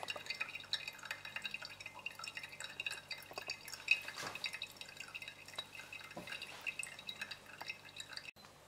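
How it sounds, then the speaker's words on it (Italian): Coconut water pouring from coconuts into a glass, faint irregular dripping and trickling with small liquid plinks throughout. "La noce di cocco di sinistra ha versato più acqua di cocco dentro il bicchiere."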